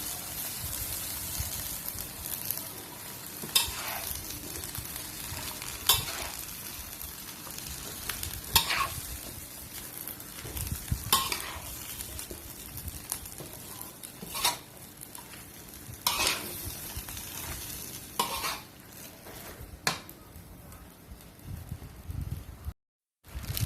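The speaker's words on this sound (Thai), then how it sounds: "ตามด้วยผักนะคะ ลงไปผัดเลยค่ะ" Vegetables stir-fry in a pan for Thai rad na with pork, a soft continuous sizzle broken by regular scraping strokes of a spatula every few seconds.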